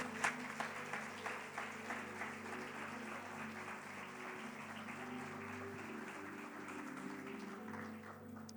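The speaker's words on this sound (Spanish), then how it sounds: "Dale un fuerte aplauso al Señor" A church congregation applauds at a Sunday service, a steady mid-level wash of clapping with a few sharper claps at the start, running evenly throughout over a low organ or keyboard drone.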